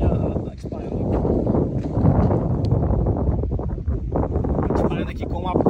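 Strong wind roars steadily against the microphone outdoors during a bolt-action rifle shooting test, a dense low rumble with gusty buffeting throughout.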